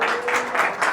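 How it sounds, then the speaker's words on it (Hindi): Church congregation clapping at a Sunday service, a dense wash of applause with rhythmic pulses swelling and easing through the whole second. "यीशु मसीह के लिए तालियां बजाएं।"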